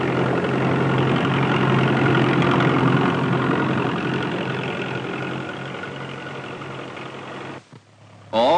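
A 1943-era farm tractor's engine pulling seed drills through a field, a steady low rumbling drone that fades slightly before cutting off abruptly near the end, followed by a brief different sound.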